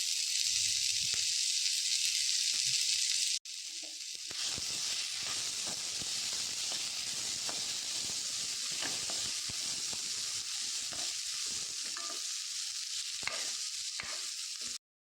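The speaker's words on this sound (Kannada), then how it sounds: "ಒಂದೊಂಚೂರು ನೀರುಳ್ಳಿ ಫ್ರೈ ಆವಡು" Onions fry in a pan for a Mangalorean pathrode dish, giving a steady close sizzle and hiss with faint stirring scrapes; the sizzle drops briefly after a few seconds, then carries on evenly with no talk.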